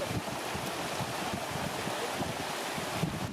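Wind blowing steadily through a river valley, a continuous broadband rush buffeting the microphone with low rumbling gusts throughout, no voices.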